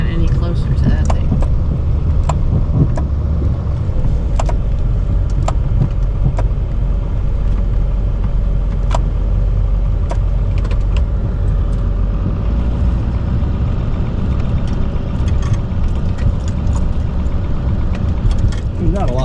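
Chevy Duramax diesel dually pickup pushing snow with a Blizzard 860 SW plow over rocky ground, a steady loud engine drone with scraping and clunks throughout, people talking over it.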